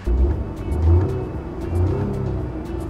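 A Peugeot 2008 SUV with a 1.2-liter gasoline engine revs hard as it accelerates, a steady close engine drone that rises and swells in pitch over about three seconds, no voices.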